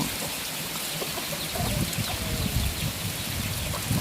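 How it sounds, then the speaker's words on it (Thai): Steady rain pours down around a rural garden house, a dense, even hiss of drops on surfaces with faint chickens in the background, close and continuous without speech. "ชุ่มฉ่ำไปด้วยฝนเลยนะเจ้าจุ่มเย็นเจ้า"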